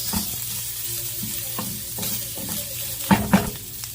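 Garlic sizzles in hot oil in a pan as the base for pinakbet, a close steady frying hiss broken by a few scraping stirs and clatters.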